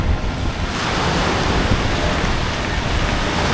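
Ocean waves wash onto a beach in Cavite, a loud continuous rush of surf mixed with heavy wind buffeting the microphone.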